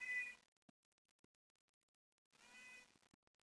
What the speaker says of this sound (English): There's meowing going on.